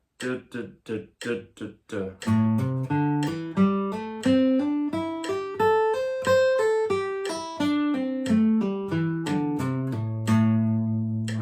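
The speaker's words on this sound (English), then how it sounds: "you're going to be hammering on across strings whilst trying to keep this group of threes going." A guitar line of hammer-on triplets across strings repeats quick groups of three notes, starting with separate sharp attacks and then flowing smoothly as the pitch climbs and falls.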